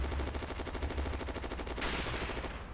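Steady rhythmic machine gun fire in the WW2 Online battlefield game near a depot, heard as continuous, evenly spaced rounds at moderate distance, fairly faint, with no voices.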